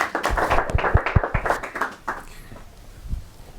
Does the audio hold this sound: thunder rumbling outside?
no